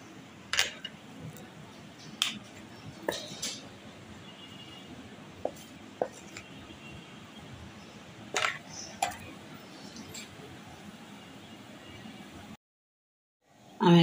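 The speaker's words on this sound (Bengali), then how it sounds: "আমি এখানে চামচ দিয়ে দিয়ে অল্প অল্প করে শুকনো উপকরণগুলো মেশাবো" A spoon gently folds dry cake ingredients together in a bowl, making soft, sparse clinks and scrapes over a quiet room background.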